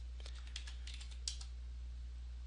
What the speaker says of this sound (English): I'm just typing in every 500 pips.